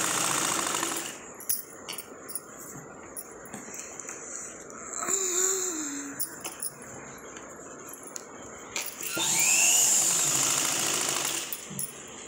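Domestic sewing machine stitching a handi-style blouse neckline, with bursts of rapid mechanical whirring alternating with pauses, close and fairly loud.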